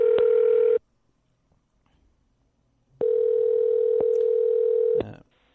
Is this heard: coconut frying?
no